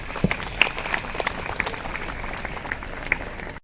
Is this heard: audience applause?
yes